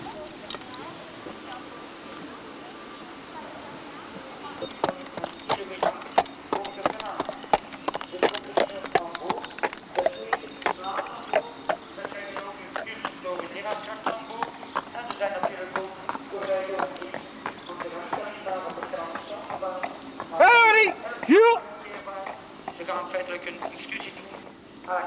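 Steady cart horse hooves clip-clop at a walking pace along a canal towpath while pulling a boat, over a continuous background murmur, with a brief high whistle-like sound near the end.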